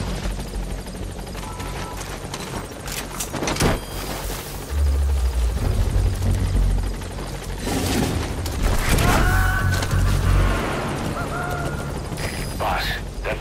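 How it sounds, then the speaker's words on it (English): A support helicopter arrives in the video game Metal Gear Solid 5: The Phantom Pain, its rotor thumping loud and steady with mechanical clanks and bursts layered over it. "Support helicopter has arrived."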